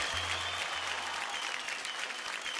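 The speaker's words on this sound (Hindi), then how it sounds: "जोरदार तालियां हो जाए सिमरत के लिए" Warm applause from a studio audience after a dance performance on a reality talent show, a dense steady clapping that holds throughout.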